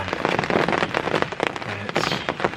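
Rain patters and drums on a hunting blind during an afternoon deer hunt after snowfall, a close, dense, uneven crackle of drops hitting the surface, fairly loud and continuous with irregular heavier spatters.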